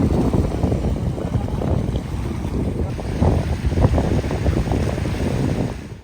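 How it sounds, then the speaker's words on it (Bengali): Steady rushing of choppy sea water and wind along a shore as a fishing trawler comes in, a broad continuous wash with gusting wind noise and no voices. "একটি ট্রলার এসে ভিড়েছে আমাদের জামতলার যে সাগর পাড় রয়েছে সেখানেই।"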